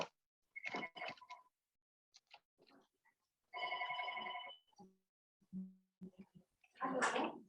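Telephone ringing in an office or classroom setting, with intermittent ring bursts separated by pauses and some background voices and clatter.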